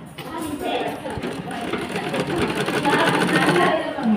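A sewing machine runs steadily as it stitches a jhabla baby dress, a close mechanical whirr that lasts the whole time, with a voice talking over it.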